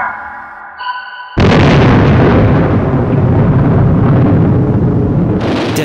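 The Trinity atomic bomb test detonation erupts as a sudden massive boom after a tonal lead-in, followed by a sustained loud rumbling roar that slowly rolls on and fades.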